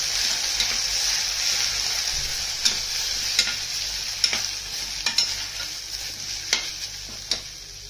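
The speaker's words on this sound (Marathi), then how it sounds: "1 चमचा पिवळा मसाला, आणि अर्धा चमचा काळा मसाला। हे चांगले परतून घ्यायचं।" Yellow and black masala spices sautéing in a pan make a steady, close frying sizzle, punctuated by a series of sharp clinks and scrapes from stirring, with no talk.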